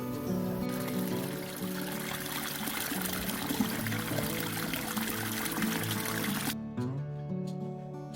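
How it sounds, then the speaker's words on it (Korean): Water gushes steadily while beef feet are rinsed in a kitchen, a close, continuous pouring splash that stops abruptly near the end, leaving a few light drips and clinks. "깨끗하게 헹궈가지고 다시 찬물을 넣고 끓입니다"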